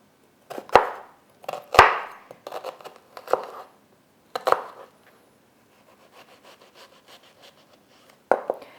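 A knife chops an onion into cubes on a board: a handful of crisp, separate cuts with pauses between, then faint soft rustling and one last sharp chop, close and without talk.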